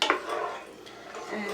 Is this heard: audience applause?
no